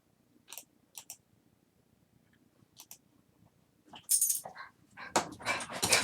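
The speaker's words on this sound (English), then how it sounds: "I gotta go take care of my dog" A pet dog indoors gives a few short, faint whimpers and whines spaced apart, followed by louder close bursts of movement and mouth noises near the end.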